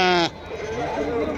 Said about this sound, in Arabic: خروف هادي غليظة تبارك